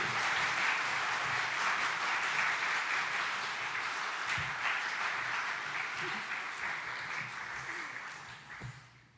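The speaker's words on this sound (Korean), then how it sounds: "우리 목사님 여기 오실 때까지 여러분 박수로 맞이해 주시기 바랍니다" A church congregation applauds to welcome the pastor at a worship service, a long even wash of many hands clapping that holds steady and then fades toward the end.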